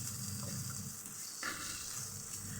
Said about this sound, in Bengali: এই তো আমি খুব ভালোভাবে মশলা কষিয়ে নিচ্ছি, আর আমার মশলা প্রায় কষানো হয়ে গেছে